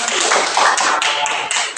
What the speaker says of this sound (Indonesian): Oke, tepuk tangan dulu buat dia.